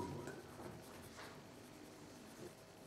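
A pencil scratches across paper while someone draws opened carp, giving soft, continuous scratching strokes that are close and very faint.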